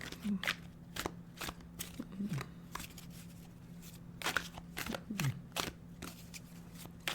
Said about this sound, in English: let's pull a couple of cards, shall we?